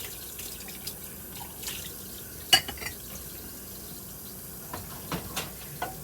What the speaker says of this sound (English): I'm sure you guys know how to do dishes already.